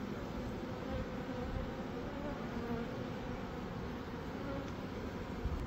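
Honey bees buzzing during a suitless bee rescue, a steady dense hum of many insects held close and even for the whole stretch with no clear talking.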